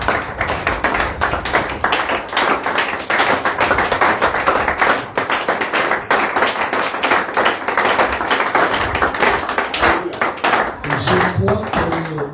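A church congregation applauding together, dense and steady clapping that runs unbroken and loud throughout, with a few voices mixed in toward the end.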